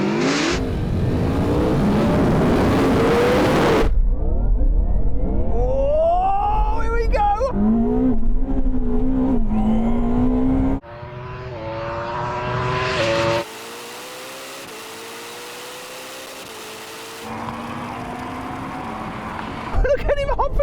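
A drag race between a Porsche Taycan Turbo GT, a Ferrari SF90 and a Yamaha R1M, heard as engines revving and rising in pitch through gear changes in several cut segments, loud and close, with an excited voice over parts of it.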